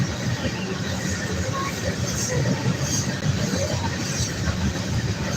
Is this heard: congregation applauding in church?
no